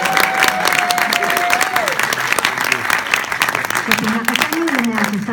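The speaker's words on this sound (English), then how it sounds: "Another big round of applause." Loud, dense applause with scattered cheers from a comedy festival crowd at the end of a stand-up set, steady for several seconds with voices briefly audible over it.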